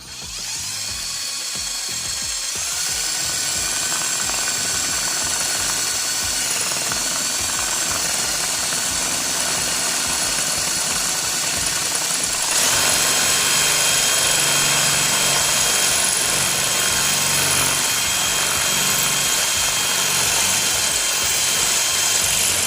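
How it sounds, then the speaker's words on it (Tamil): A cordless drill runs loud and continuous for a long stretch, a steady high whine with a grinding buzz as it bores into a hard wall. "சுவரில் அதனால் ஈஸியாக ட்ரில் பண்ண முடியுது"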